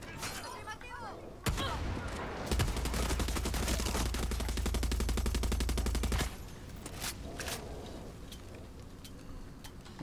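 Mounted gun in Far Cry 6 firing a long rapid burst of automatic fire, loud and close, followed by scattered single shots and impacts with distant gunfire; someone speaks briefly around it.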